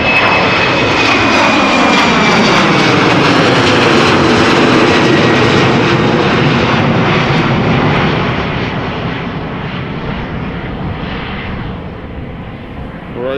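An Embraer jet airliner takes off at Amsterdam Schiphol, its loud, broad engine roar holding steady for most of the run and then slowly fading as the aircraft climbs away.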